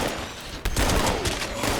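The Pepper Shaker, a rapid-fire gun in the video game Fallout 76, fires a dense, loud burst of overlapping shots. A sharp onset partway through is followed by continuous rattling fire.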